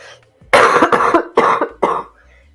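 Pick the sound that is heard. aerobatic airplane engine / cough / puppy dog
cough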